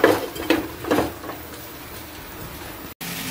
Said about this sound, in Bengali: তারপরে আবার ঢাকা দিয়ে দেবো।